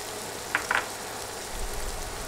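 Ground spice paste frying in hot oil for a Bengali fish curry, a soft steady sizzle with a couple of brief spatter bursts near the start, quiet and close with no talk.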